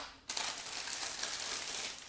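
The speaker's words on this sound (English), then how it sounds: "Now I'm opening the second plastic bag" A plastic bag from a 1/35 scale Miniart model kit being opened: a sudden onset of close, continuous crinkling and rustling that runs on steadily, with no talk.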